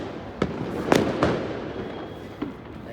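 Fireworks bursting outdoors, with four sharp booming reports at uneven intervals, the loudest near the middle, over a steady background of distant crackle and rumble.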